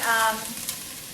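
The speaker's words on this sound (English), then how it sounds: "So I'm frying some onions right now" Steady sizzling of onions frying in a pan, a dense hiss throughout with a brief tonal ring near the start.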